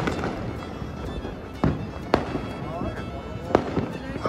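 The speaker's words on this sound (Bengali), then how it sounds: "এখানটা আমার প্রচুর ফাটছে।" Fireworks at a New Year celebration, heard as a continuous rumbling crackle with several sharp bangs standing out, under a voice talking close by.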